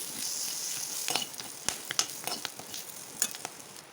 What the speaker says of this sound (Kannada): ನೋಡಿ ಚೆನ್ನಾಗಿ ಫ್ರೈ ಆಗಿದೆ